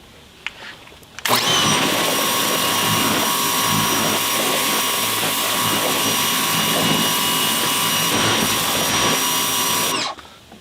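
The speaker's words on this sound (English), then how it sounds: "we'll be able to get the stairs at least pressure washed off" A Ryobi pressure washer blasts paint off wooden deck stairs. A loud, continuous hissing spray starts abruptly, runs steadily for about nine seconds, then cuts off.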